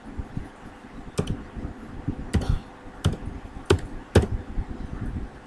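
Computer keyboard typing while a Python print command is entered, heard as a handful of sharp, separate key clicks spaced irregularly over a low background hum, close and moderately loud.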